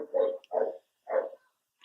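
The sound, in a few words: dogs barking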